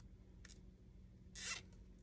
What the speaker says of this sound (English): just zip tie it there